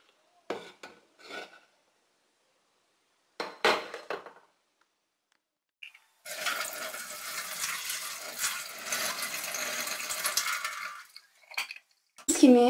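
Garlic being ground in a hand-operated blender, heard as a sustained rough grinding rasp of several seconds after a few short clicks and knocks, close and fairly quiet, with no talk.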